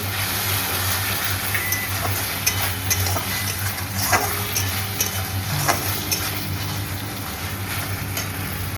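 Spices being stirred in a pan, a faint scraping and light sizzle with occasional soft clicks, heard close under a continuous low hum.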